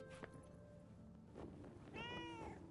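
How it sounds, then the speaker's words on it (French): A small cat in the Forspoken video game, found at a pilgrim rest stop, gives a couple of faint meows over a soft background bed, the last one rising and clearer. "Un nouveau félin est apparu dans une halte de pèlerin."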